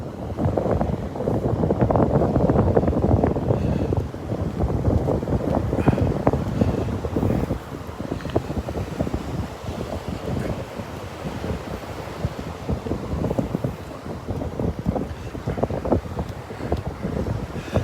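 Wind gusting on the beach at Delnor-Wiggins, a loud continuous rumble buffeting the microphone, strongest in the first several seconds and then easing into an uneven roar.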